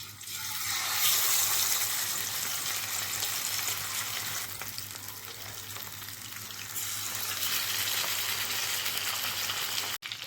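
Marinated fish frying in a pan, a loud continuous hiss and crackle of hot oil close by, swelling and easing slightly, ending with a sharp clink.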